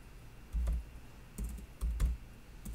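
Keystrokes on a computer keyboard come in a few separate clusters of soft clicks with pauses between them, close and quiet, with no voice.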